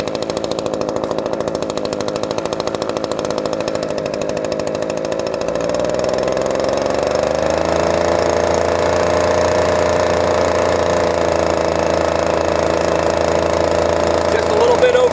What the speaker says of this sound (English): when I run my motor, I don't run it wide open